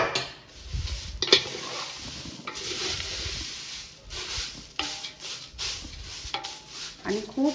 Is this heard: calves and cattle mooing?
no